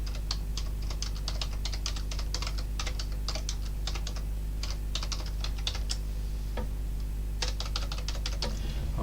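A computer keyboard is typed on in quick bursts of close, clicky keystrokes, pausing briefly mid-run before resuming, over a steady low electrical hum.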